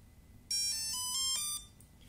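A HobbyKing ESC plays a bright melodic programming tune, a run of stepped electronic notes lasting about a second, close and clear over a quiet background with no speech.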